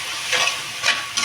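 Fried cashews and raisins get stirred into pumpkin halwa in a pan, with a soft continuous sizzle and three brushing scrapes of the spoon, close up and without speech.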